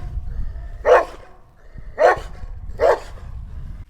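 A dog barks three times at spaced intervals, fairly close, over a low rumbling background.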